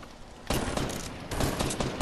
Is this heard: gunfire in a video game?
yes